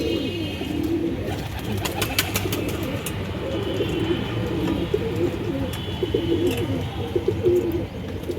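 Healthy pet pigeons coo in a low, continuous murmur, with scattered sharp clicks and flutters from the birds.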